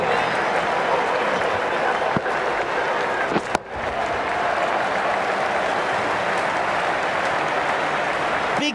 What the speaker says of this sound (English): The crowd's on their feet, probably hoping they can catch a six.